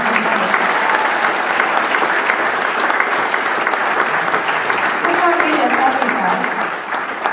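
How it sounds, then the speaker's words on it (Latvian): A concert audience applauds loudly and continuously, dense clapping filling the whole stretch before easing slightly at the close. "Paldies viņai un aplausi!"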